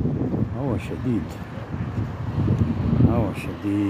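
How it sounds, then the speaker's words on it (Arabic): Steady wind roaring and buffeting the microphone throughout, with voices talking over it. "هوا شديد."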